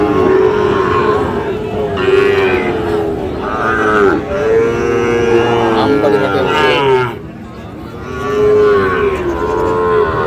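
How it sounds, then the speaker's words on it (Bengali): Sahiwal bulls and calves moo repeatedly at a busy cattle market, the long lowing calls loud and close, overlapping one another under steady crowd noise and someone talking. "ষাঁড় গরুগুলো প্রায় বিক্রয় করা হচ্ছে।"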